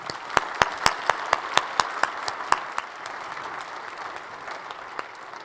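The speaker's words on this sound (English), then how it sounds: "Round of applause, please." A conference audience applauds after a best-paper award announcement; a few loud, distinct claps ring out at the start before the clapping thins into a softer, scattered patter that fades.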